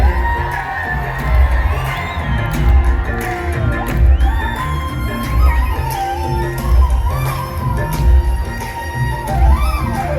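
A lively crowd cheers, whoops and shouts continuously over a loud music track with a sung melody, the noise swelling and falling throughout without a clear break.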